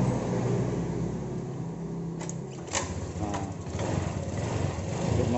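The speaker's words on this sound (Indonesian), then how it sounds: "Tapi kalau diengkol hidup, coba diengkol." A Honda Vario 150 scooter that will not electric-start runs steadily after being kick-started, giving a continuous close engine drone with a few brief higher-pitched rattles over the idle.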